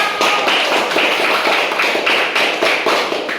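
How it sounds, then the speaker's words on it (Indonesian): Classroom of fifth-grade pupils clapping for group 1 after a presentation, a dense, steady run of many hands close by that holds for a few seconds with no talking over it. "beri tepuk tangan dulu untuk kelompok 1"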